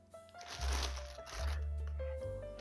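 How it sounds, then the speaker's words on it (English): A plastic bag from a Coach leather tote unboxing rustles and crinkles as it is handled, with soft uneven crackling bursts at close range and no talking. "it just came in this plastic bag."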